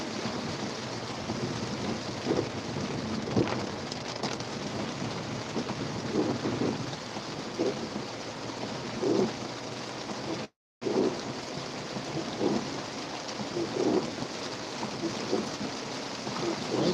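Steady rain with low rolling rumbles of thunder from an incoming storm, heard outdoors along open roads, a continuous wash of noise with occasional deeper swells and one brief dropout.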